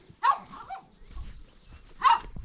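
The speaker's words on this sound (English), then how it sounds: "My dog has not seen me." A dog at a village home gives two sharp, loud barks about two seconds apart, close by, with quiet rustling between them.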